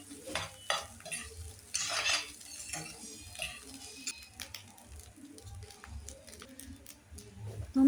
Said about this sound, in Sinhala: තෙම්පරාදු කරගන්නවා.